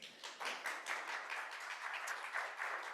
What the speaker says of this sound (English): let's all do one more round of applause